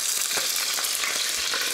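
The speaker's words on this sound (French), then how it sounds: "Dès que c'est chaud, je rajoute les cuisses. Oh là là, quel beau bruit!" Chicken thighs frying in clarified butter in a cocotte make a bright, close, continuous sizzle with brief surges of crackle, steady and fairly loud, with no voices.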